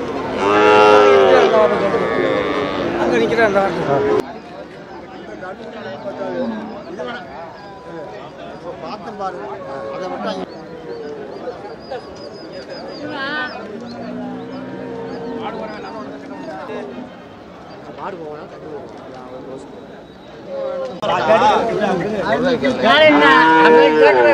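Cattle moo again and again at the Manapparai cattle market, some calls loud and near, others further off, while people talk and chatter steadily among the animals.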